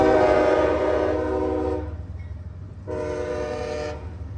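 Horn of an eastbound CSX intermodal freight train in northern Ohio sounds two loud, sustained chord blasts separated by a short gap, over the steady low rumble of the passing train.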